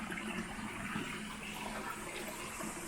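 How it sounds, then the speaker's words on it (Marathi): A natural water stream still flows in May in a scenic rural spot, making a continuous moderate rushing and gurgling wash that holds steady throughout, with no voices over it. "पाण्याचा प्रवाह अजूनही चालू आहे मे महिन्यात सुद्धा"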